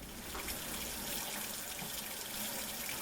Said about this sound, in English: I'm going to use just hot tap water.